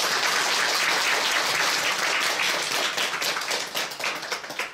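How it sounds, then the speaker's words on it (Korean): An audience applauds at a Tibetan Buddhist teaching event, a dense, sustained clapping that stays loud throughout and thins slightly toward the end. "큰 박수 함께 맞으시기 바랍니다."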